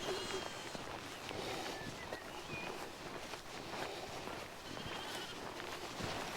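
Sheep bleat faintly in a Wiltshire field, with a few scattered calls over outdoor noise and rustling, somewhat distant and quiet.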